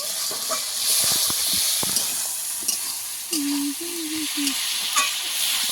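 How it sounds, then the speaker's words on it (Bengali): Ground coriander spice paste sautéed in a pan for a curry of fresh pond-caught bata and foli fish with potatoes: a continuous close sizzle with frequent sharp stirring clicks and a short whistling tone midway. "মশলা ভালো করে কষিয়ে নিয়েছি"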